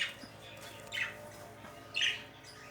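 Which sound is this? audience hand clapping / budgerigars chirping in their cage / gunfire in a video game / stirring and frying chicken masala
budgerigars chirping in their cage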